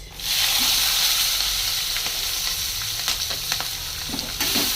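Onion and spices frying in a pan for a fish and cabbage dish, a loud steady sizzle with scraping stir strokes running over it, close up with no voices.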